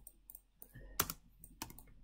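Quiet clicking of keys on a computer keyboard, a few scattered taps and one sharper clack near the middle, faint and close with no talking.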